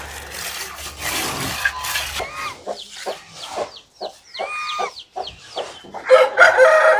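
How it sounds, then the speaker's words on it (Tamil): Fighting cock roosters, long-tailed game birds, crow repeatedly at close range with rising, wavering calls, alongside clucking and scattered bursts of other fowl noise. "சேவல்கள்லாம் வந்துருக்கு, இந்த சேவலையும் பார்த்துடலாம்."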